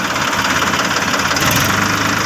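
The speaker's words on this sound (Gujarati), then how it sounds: "હેઠ એટલે ટ્રેક્ટર વાળી લીધું છે પાછું" A tractor engine idles nearby with a steady, dense rumble and faint knocking throughout, holding loud and even for a couple of seconds with no voices.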